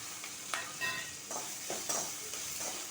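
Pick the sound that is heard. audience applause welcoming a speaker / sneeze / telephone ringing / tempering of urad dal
tempering of urad dal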